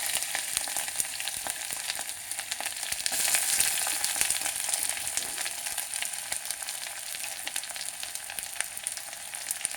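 Onions frying in a pan with whole garam masala give a steady, moderately loud sizzle and crackle, with a slight swell partway through as the pan is stirred.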